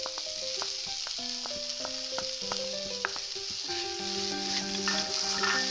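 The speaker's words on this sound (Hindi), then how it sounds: "तो सबसे पहले मैंने कढ़ाई चढ़ा दी है उसमें मैं एक कटोरी मावा डाल दूंगी" Mawa (khoya) sizzles and is stirred in a kadhai for coconut laddoos, a steady close frying hiss with scraping strokes throughout, soft music playing underneath.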